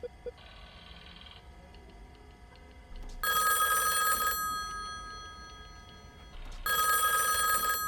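A telephone rings in two loud, bright bursts about three seconds apart, each a rapid metallic bell trill lasting about a second, with a quieter tone and faint room noise between rings.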